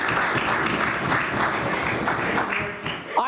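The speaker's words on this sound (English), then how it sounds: "I would be embarrassed to clap at that." Dense applause and clapping fill a provincial legislature chamber during question period, a steady wash of many hands with faint voices mixed in, fading slightly near the end.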